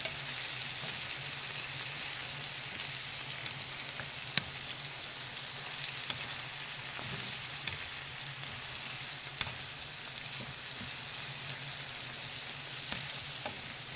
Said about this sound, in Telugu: తగినంత పసుపు వేసుకొని ఫ్రై చేసేయాలన్నమాట.